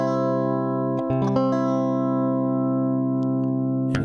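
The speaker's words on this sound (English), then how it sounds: "Then you're going to strum from the 5th string to the 2nd string." A guitar chord strummed across the middle strings, from the fifth down to the second, ringing out steadily and close with a fresh strum near the end; no talking.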